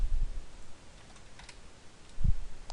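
Keys on a computer keyboard are pressed in a few quick taps while a code snippet is copied and pasted, close and quiet with short pauses between the strikes.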